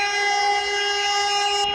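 A DEMU train locomotive in the Trainz Simulator game, set in Bangladesh, gives a loud, steady, horn-like tonal drone that holds evenly and then cuts off sharply just before the end.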